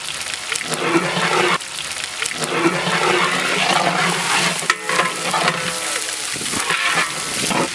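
Ginger garlic paste sizzles and sputters in a pot for Kashmiri pulao, a loud, continuous frying crackle with occasional scrapes as it is stirred.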